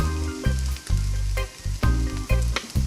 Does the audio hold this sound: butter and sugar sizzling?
yes